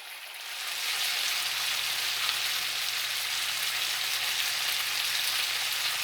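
Potatoes and onion fry in a skillet, seasoned with lemon pepper, paprika and black pepper, giving a steady, close hiss and crackle that swells in after a quiet start and holds evenly, with no voices.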